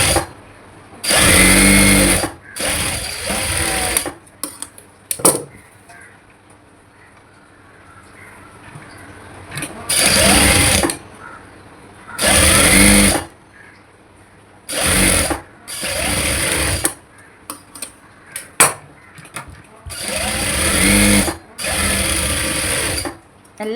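An electric sewing machine stitches an umbrella frock in repeated loud bursts of a few seconds each, separated by quieter pauses with faint handling noises and no talking.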